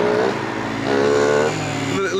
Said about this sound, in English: A little induction noise on it.